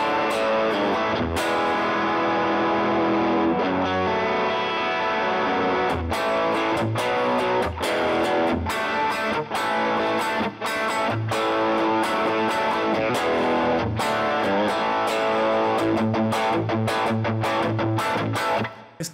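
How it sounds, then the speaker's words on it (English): Electric guitar played through a rat-style distortion pedal model in the Overloud THU amp and effects simulator, gritty sustained chords and riffs with sharp rhythmic attacks, played alone with no talking. "So let me add the cat distortion. This is obviously a rat distortion."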